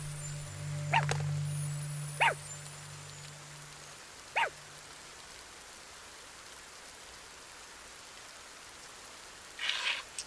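A dog in a video game barks three times from a doghouse, short sharp barks spaced a couple of seconds apart over steady falling rain, with a brief chirpy sound near the end.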